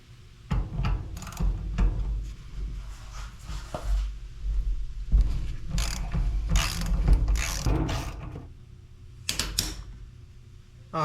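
Hand wrench working a tie rod nut loose on an EZGO golf cart during a lift kit install, a string of close mechanical ratcheting clicks in uneven bursts with short pauses between them.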